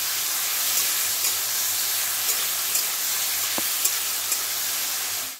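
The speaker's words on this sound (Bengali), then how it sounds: "তার জন্য চিংড়ি মাছটা নুন হলুদ মাখিয়ে হালকা করে ভেজে প্রথমে তুলে রাখবো" Prawns coated in salt and turmeric lightly frying in hot oil, giving a steady, fairly loud hissing sizzle with occasional small pops and crackles, then cutting off abruptly at the end.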